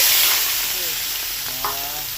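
Prawns hitting a hot wok give a brief, bright sizzle that starts loud and eases slightly, with a stirring scrape and a faint voice murmuring underneath.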